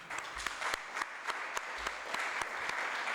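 Audience applause at a Venezuelan political event, a quiet, steady patter of many hands clapping, heard from a distance throughout.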